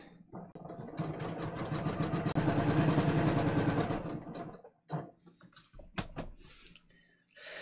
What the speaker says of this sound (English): But I'm just stitching along here.